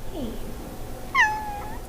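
A cat gives a single clear meow in a cat cafe, preceded by a faint softer mew, close and otherwise quiet.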